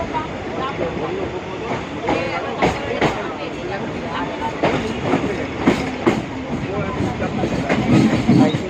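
A local train on the Howrah–Burdwan chord line pulls into Shaktigarh station, its steady rolling rumble and rhythmic clickety-clack of wheels over rail joints filling the clip at close range, with voices murmuring underneath.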